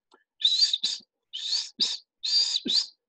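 Three paired cuckoo calls from a recording, each a hooting, whistled phrase followed by a shorter note, evenly spaced and clear against a quiet background.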